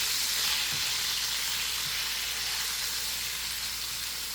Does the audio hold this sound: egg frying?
yes